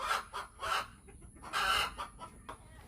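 Chickens cluck in short repeated bursts on a farm, fairly close, with a hen among the flock, no talk over them.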